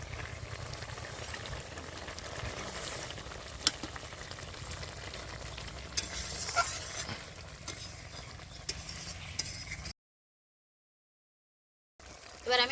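Garlic paste frying in a pan of fish curry with green chillies, a steady low sizzle and bubbling with occasional stirring knocks, cutting to silence near the end before a brief burst of sound.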